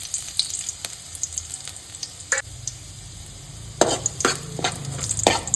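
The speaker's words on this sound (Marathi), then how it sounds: "मातशी ब्रावन जाऊ दी गार्लीक. आता आमची गार्लीक ब्रावन जाला." Chopped garlic frying in oil until brown sizzles steadily up close, with a few sharper crackles and stirring scrapes, growing busier toward the end; no one speaks.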